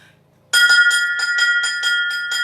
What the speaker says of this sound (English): a bell is percussion because it's something that's whacking back and forth